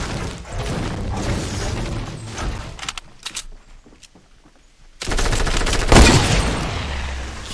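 Compact SMG P90 fire in a video game comes as dense rapid bursts, loud and close, with a brief lull of scattered shots before another heavy volley.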